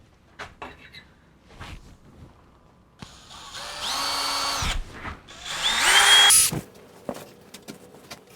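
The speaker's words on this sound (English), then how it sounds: "we're going to run this 1/2-inch bit through this 1/4-inch plate steel here" A Vevor 1300W magnetic drill boring a 1/2-inch bit through 1/4-inch steel plate, whining in two sustained bursts that rise and fall in pitch, with clicks and handling noises between them, close and loud.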